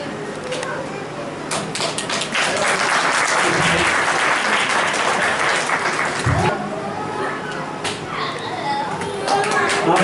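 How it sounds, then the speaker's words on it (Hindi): An audience at a disability self-reliance organization's event in Nagda applauds as promoted staff receive new cards, sustained close clapping throughout, with voices faintly talking beneath it. "आप सभी तालियों से स्वागत करें।"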